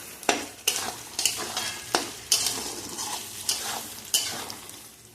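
Tomatoes and spices sauté in a pan, with a steady sizzle broken by regular stirring scrapes about every half second, close and moderately loud with no talking.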